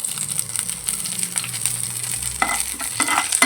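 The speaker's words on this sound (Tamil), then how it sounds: "சோம்பு நல்லா பொரிஞ்சு வந்ததும் கருவேப்பிலை சேர்த்துக்கலாம்" Fennel seeds and curry leaves sizzle and crackle steadily in hot oil while being stirred, a close, continuous frying hiss with small pops and scraping, no talking.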